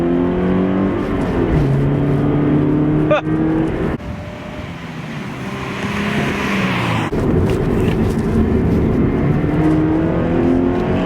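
A 2017 Subaru BRZ engine revs and accelerates loudly and steadily close by, its drone rising through gear changes with a brief dip midway and wind noise over the top.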